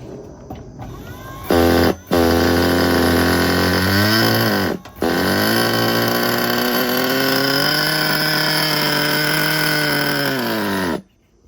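A 1985 Kyosho Integra Vanning 4WD RC car's nitro engine is spun by a starter box, then catches and runs loud and steady for about nine seconds with a brief dip, rising in pitch before cutting off abruptly.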